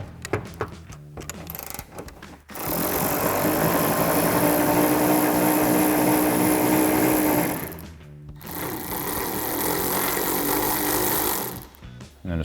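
A 10mm socket on an extension spins a nut off the rear trunk spoiler mount of a 2015-2023 Mustang, making two long, steady mechanical whirring bursts split by a short pause.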